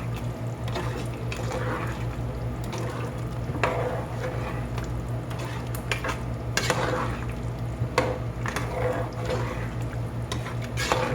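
A chicken macaroni bake mixture is stirred in a simmering pot, with repeated scraping and liquid sloshing over a constant sizzling bubble, close and moderately loud throughout.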